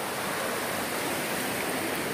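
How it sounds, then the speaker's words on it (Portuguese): Water from a large stream in rocky Northeastern Brazilian backcountry rushes in a continuous broadband hiss, steady and unbroken, with nobody speaking. "O riacho grande aqui."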